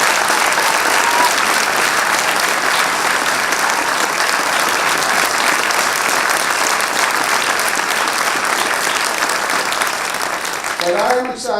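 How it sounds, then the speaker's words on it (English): A large crowd at a state senator's swearing-in applauds Carol and Michael, sustained loud clapping that holds steady throughout before tapering off at the very end. "let's give Carol and Michael a big round of applause"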